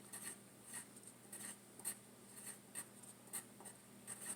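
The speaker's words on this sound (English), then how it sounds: "I'm going to write chocolate." Pencil writing a word on a paper worksheet: soft, close scratchy strokes in short irregular bursts, quiet and alone.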